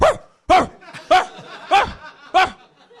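A person imitates a dog barking, giving five short, loud, evenly spaced barks about half a second apart, with quiet gaps between them.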